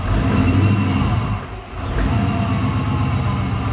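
A 383 stroker car engine running on a bad chip rumbles loudly nearby, dips briefly, then surges back as the throttle opens. The engine holds a steady, rough drone to the end with no talking.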